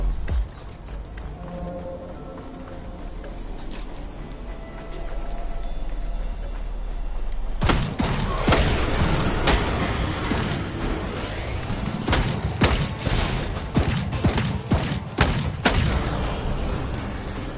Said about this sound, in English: explosion of the tanks is pretty cool.